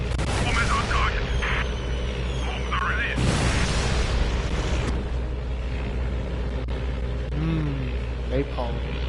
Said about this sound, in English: Bomb is on target. Bombs are released.